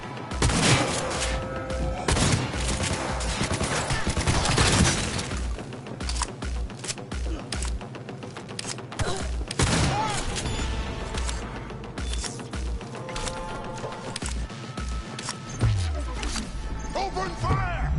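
Dense bursts of gunfire from a PS4 shooter game fill the whole stretch, loud and near, with crashes and booms mixed in and voices speaking over the action.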